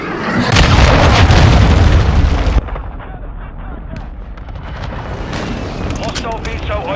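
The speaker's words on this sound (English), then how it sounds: "Hostile airstrike near your location." Airstrike blasts in Modern Warfare 2 heard as loud, booming explosions with rumbling debris that dominate the opening seconds, then drop to a lower wash of distant battle noise and crackling.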